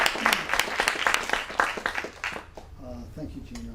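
Applause from an audience at a talk on mental and emotional fitness welcoming a speaker, clapping that starts in rhythmic bursts and thins out as voices begin talking over the last part.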